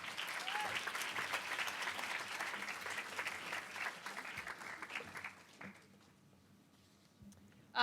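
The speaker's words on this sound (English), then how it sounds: "Big round of applause." An audience at the Project Inspire 2015 grand finals gives the top ten finalists sustained, dense applause that fades away after about five seconds, leaving quiet room tone.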